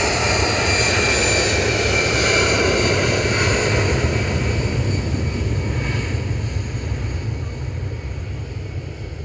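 EasyJet Airbus A319 jet airliner from Amsterdam at Manchester Airport, a loud, steady broadband engine roar that holds throughout and eases slightly toward the end, with no voices.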